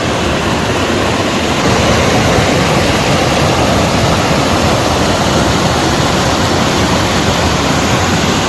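Loud, continuous roar of rushing floodwater after torrential rain in Dadyal, Azad Kashmir, a steady broadband wash filling the whole stretch with no talk over it.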